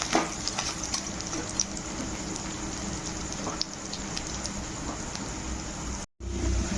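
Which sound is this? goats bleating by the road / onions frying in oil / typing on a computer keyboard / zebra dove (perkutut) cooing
onions frying in oil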